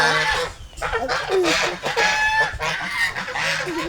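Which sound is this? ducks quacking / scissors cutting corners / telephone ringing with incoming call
ducks quacking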